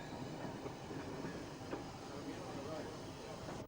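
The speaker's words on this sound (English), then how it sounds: "This engine is an H-class tank" SECR H-class steam tank engine on the Bluebell Railway runs along with a faint, steady rolling rumble and soft rhythmic clatter, distant and continuous.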